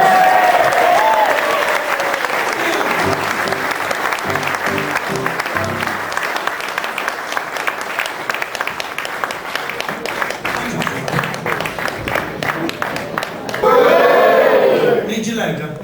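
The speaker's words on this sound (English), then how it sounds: "Let's give him a round of applause." An audience at a school play bursts into loud, sustained applause with scattered cheers, a dense, steady patter of clapping that carries on throughout and swells near the end.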